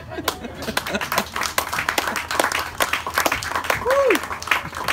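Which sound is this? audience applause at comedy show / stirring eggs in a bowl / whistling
audience applause at comedy show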